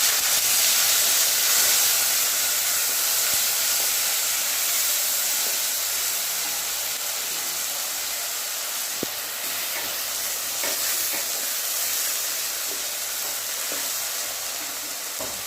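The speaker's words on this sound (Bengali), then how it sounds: "এবার দিলাম কেটে ধুয়ে রাখা পেঁয়াজ।" Chopped, washed onions sizzle and hiss in hot oil with bay leaf, whole garam masala and sugar, a loud, steady frying noise with faint stirring clicks and no talk.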